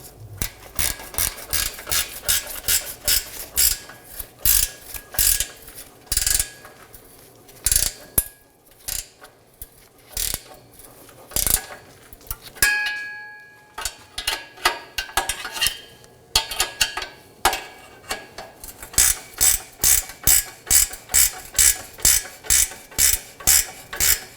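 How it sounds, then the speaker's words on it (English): A ratchet wrench tightens the 13 mm fuel pump module bolts on a 2018-2024 Chevrolet Equinox 1.5L. Loud, close clicking runs in steady repeated strokes throughout, with a few brief pauses between pulls. "Support one side with the wrench and tighten the other side."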